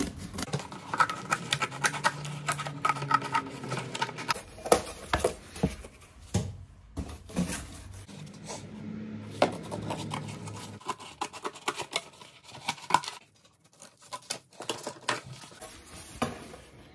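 Plastic being cut to shape for a front splitter on a Cosy Coupe toy car, a long run of close, irregular snipping, scratching and clicking with brief pauses, no talking.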